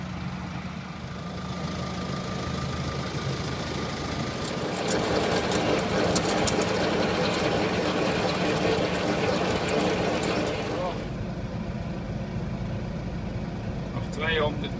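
A tractor drives with a Bogballe LW2 Plus fertilizer spreader, its engine droning steadily at close range with rattling and clicking in the middle stretch, while a voice talks over it.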